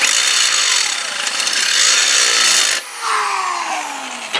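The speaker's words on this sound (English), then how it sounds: "you're drilling sort of around the edge to make it expand a little" A power drill grinds close and loud as it works around the edge of a metal hole to widen it during an electric wheelbarrow build, with a brief stop and a falling-pitch whine as it restarts and slows.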